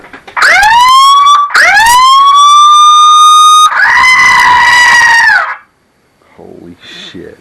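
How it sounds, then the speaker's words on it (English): A DIY five-button programmable horn blasts a very loud Dixie tune, three long rising brassy notes in a row, then cuts off to near silence with faint sounds after. "Watch me hit the friggin' Dixie horn"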